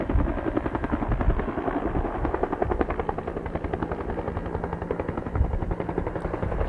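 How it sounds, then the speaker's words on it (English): A Bell 212 or Bell 205 helicopter hovers close by at a wildfire, its rotor thumping in a steady rapid rhythm under a constant engine roar. "I think it's a Bell 212 or a Bell 205. It's what we call a Type 2 helicopter."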